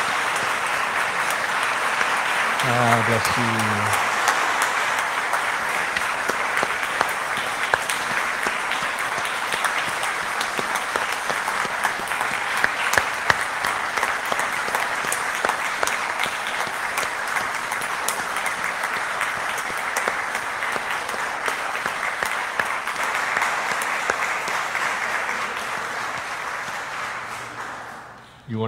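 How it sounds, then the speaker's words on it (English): A church congregation applauds at a Eucharist service, steady sustained clapping filling the room for nearly half a minute after a brief spoken blessing. "You may now applaud."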